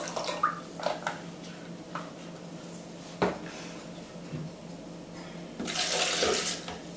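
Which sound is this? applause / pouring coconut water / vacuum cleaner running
pouring coconut water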